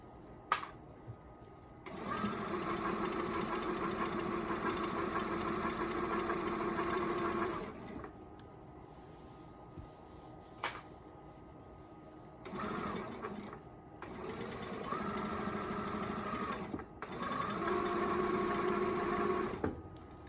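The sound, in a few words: sewing machine stitching at 1,000 stitches per minute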